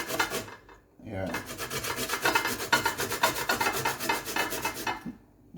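A small whole nutmeg grated on a hand grater for Jamaican pumpkin punch: loud, close, rapid rhythmic rasping strokes running continuously after a brief pause near the start, then stopping.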